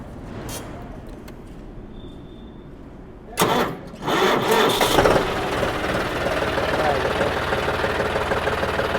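A John Deere tractor engine idles with a steady low rumble throughout, briefly louder midway as something bangs near the microphone, with faint talk underneath.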